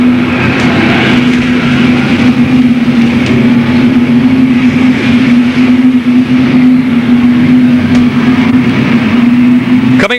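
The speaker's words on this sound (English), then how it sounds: "Joe Lewis rounds out the top 5 as they work out of turn 4." Sportsman race cars lapping the oval at Louisville Motor Speedway in 1991, a loud continuous engine drone with a steady hum from the pack coming out of a turn, heard without talk.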